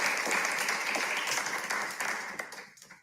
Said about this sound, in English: Give yourselves a giant round of applause.